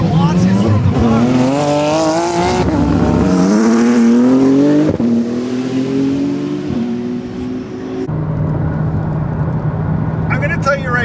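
Porsche 911 race cars launch from the front, engines revving hard through rising gear pulls with shifts between them, loud and close; a voice talks over the roar.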